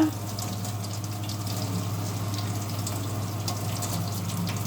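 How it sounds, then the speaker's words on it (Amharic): Hot water poured onto injera for a dirkosh firfir dish, a steady close stream of liquid flowing for several seconds with a constant low hum beneath it. "ይኸው እንጀራው ላይ ትንሽ ሙቅ ውሃ ላፍስስበት፣ ትንሽ ረጠብ እንዲል"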